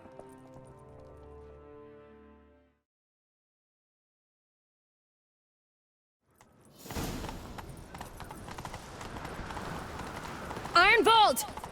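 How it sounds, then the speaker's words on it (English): Horse hooves clatter as riders gallop off in The Witcher 3, loud close rhythmic clip-clop under game music and shouting voices after a brief silent gap. "Grab a horse, we'll chase him down."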